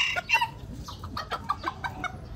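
Malaysian Serama bantam chickens cluck in a quick, uneven run of short, close, moderately loud calls, with more birds softly clucking in the background.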